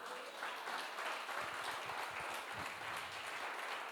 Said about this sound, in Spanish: Dele una alabanza de aplauso a Cristo